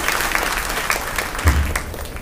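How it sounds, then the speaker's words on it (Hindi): Audience applause at a Brahma Kumaris spiritual gathering: dense, steady clapping from a crowd lasting a couple of seconds, fairly close and even in loudness. "ताली बजाएंगे।"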